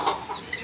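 Pigeon chicks under a light in a loft full of pigeons give soft, quick chirps in a short, faint burst.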